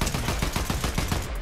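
Rapid automatic gunfire in a video game, a fast even burst of sharp shots close and loud, with no talk over it.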